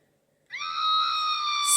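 An Irritator toy noisemaker lets out a sudden electronic scream after a moment of silence, a steady, piercing tonal shriek held loud and close for over a second.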